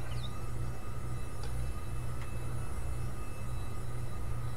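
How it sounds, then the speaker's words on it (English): Jet aircraft passing overhead in Farming Simulator 19 on Spectacle Island: a steady, loud low roar with constant hum that persists throughout, no voices over it. "Y'all hear that jet?"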